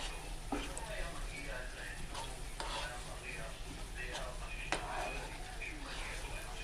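Chicken is stirred in a pan with soy sauce and oyster sauce, producing a steady sizzle broken by repeated scraping strokes of a utensil, close by, with faint talk now and then.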